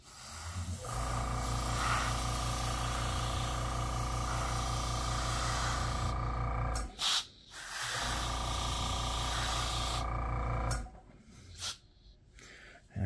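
An airbrush sprays paint onto a B-25J Mitchell scale model, a steady loud hiss with a compressor hum beneath, broken by two short pauses as the trigger is released.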